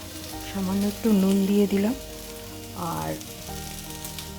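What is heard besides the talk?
frying and stirring green tomatoes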